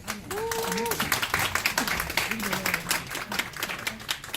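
An audience claps to welcome two pastors onto the stage at a Korean church event, a sustained patter of moderate applause running the whole length, with voices and talk mixed through it.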